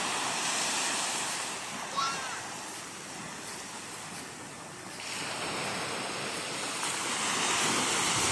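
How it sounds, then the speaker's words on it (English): Ocean waves roll onto a Florida beach in a steady, broad wash of surf that swells louder in the second half, with wind rushing across the microphone and no voices. "Look at the beautiful ocean."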